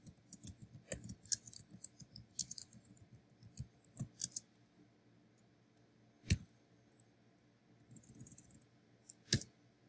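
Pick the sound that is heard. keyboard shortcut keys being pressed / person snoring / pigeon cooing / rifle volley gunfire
keyboard shortcut keys being pressed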